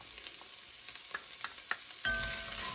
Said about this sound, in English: So it's time to add the garlic. This is our minced garlic. I'm just gonna